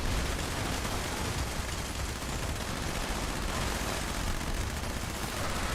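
Minigun hip fire in Fallout 76, a dense, continuous roar of rapid gunfire at a steady loud level throughout, with no pauses.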